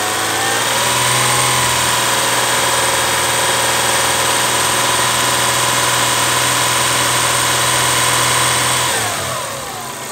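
A 1992–1993 Toyota Camry 3.0L 3VZ-FE V6 engine runs steadily with a strong low hum and a raised, held rev, loud and close, dropping off near the end.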